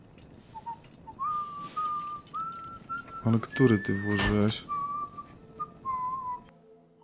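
Codsworth, the robot butler in Fallout 4, whistles a wavering tune in thin, drawn-out notes. Someone speaks briefly over the middle stretch, and the whistling carries on faintly after he stops.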